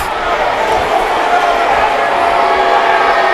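Disgruntled spectators at an indoor MASL arena soccer game between Harrisburg Heat and Utica City FC, a dense continuous roar of booing and shouting after a foul call, loud and sustained throughout with no clear breaks.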